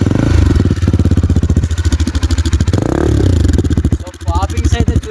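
A Bajaj Pulsar NS200 with an aftermarket Akrapovic exhaust and the dB killer fitted revs up close by, with a loud, throbbing, pulsing exhaust note that rises and falls.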